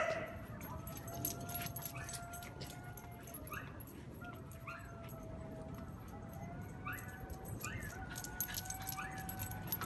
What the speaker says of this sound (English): There's a dog crying in there, in the neighbor, and Roxy go crazy.